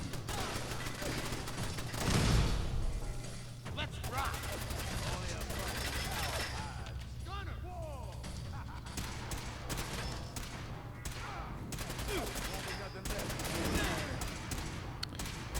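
Turret gunfire in Fallout 4 during a survival-mode firefight: dense, continuous rattling shots and crackling volleys that blend into a sustained noisy barrage, loud and unbroken for the whole stretch.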